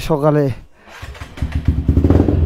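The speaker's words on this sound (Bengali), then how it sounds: "এটা হচ্ছে আমার স্টান বাইক।" A stunt motorcycle engine idles and revs with uneven, rising bursts close by, mixed with a person talking at the start.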